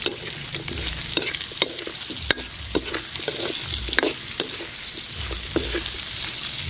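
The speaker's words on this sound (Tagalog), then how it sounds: "Kudyat na yan sa paggisa natin ng ating sangkap. Luya. Bawang. Sibuyas. Pamintang durog at saka star anise." Ginger, garlic, onion, crushed pepper and star anise sauté in hot oil for sotanghon pares, a steady sizzle broken by repeated scraping and clanking stirs against the pan.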